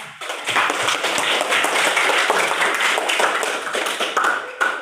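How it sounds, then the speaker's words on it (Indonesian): A classroom of students applauds a classmate, a burst of many hands clapping together for several seconds, loud and steady before it trails off at the end. "kita beri aplaus untuk teman kalian"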